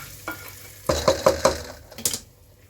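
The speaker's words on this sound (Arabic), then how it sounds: "احلى تقليه، احلى تقليه ممكن تسمعها كده" Onions sizzling in hot oil as a topping for lentils, a steady crackling hiss broken by a quick series of loud stirring scrapes and knocks against the pot, close up with no talking.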